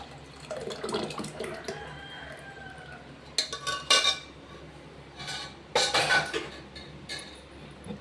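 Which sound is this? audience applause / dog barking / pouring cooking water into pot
pouring cooking water into pot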